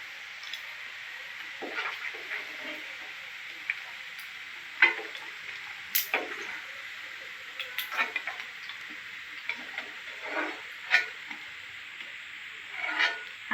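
Chicken pieces for Guntur chicken pickle fry in hot oil, giving a steady hiss and sizzle with scattered crackles and occasional scraping stirs, with no one speaking.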